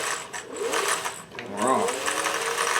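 A sewing machine runs through a seam on a vintage embroidery sampler, its steady rapid stitching clearly audible near the mic, briefly easing mid-clip before resuming, with a voice talking over it.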